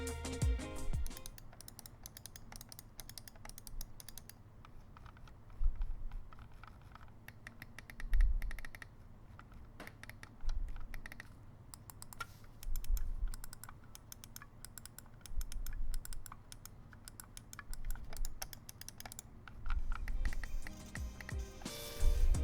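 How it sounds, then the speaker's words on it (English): Switch clicks from a Razer Taipan gaming mouse come as a long run of small, quiet taps and clicks in irregular bursts, close up, with no talking. "Razer is also known for their pleasant switches sound, as they are not as loud as some competing offerings."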